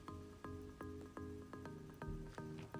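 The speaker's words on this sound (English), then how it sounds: "we lower the boiling flask and we pour this in" In the video game Schedule 1, liquid pours into a boiling flask, heard as a faint series of regular drips and liquid plinks, about eight evenly spaced, over soft game music.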